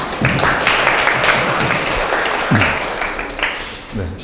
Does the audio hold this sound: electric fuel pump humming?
no